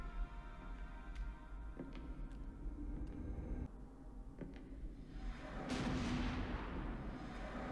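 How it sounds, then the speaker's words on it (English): A gunshot in a scene from the TV series American Horror Story: Coven, heard as a sharp burst followed by a broad rumbling blast that lingers under a steady background drone. "Oh, gunshot."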